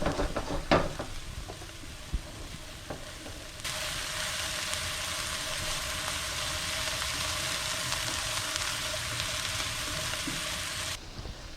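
Vegetables fry in sesame oil in a pan for chicken fried rice, giving a close, even sizzling hiss that holds steady after a few early clatters of stirring.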